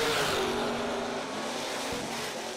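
Drag race cars, one a BMW, launching down the strip at a Kil-Kare bracket race, a broad roaring engine wash with a fading rising tone, distant and steady then thinning away.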